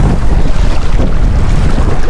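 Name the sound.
wind at the beach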